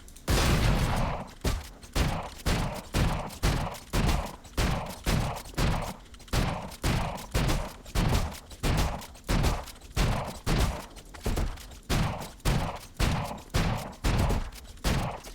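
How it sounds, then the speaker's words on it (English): A Desert Eagle pistol fires repeatedly in a first-person shooter game (Valorant), loud punchy shots in a steady rhythm of roughly two per second, about thirty in all, with no talk. "you want to switch to your deagle and shoot him"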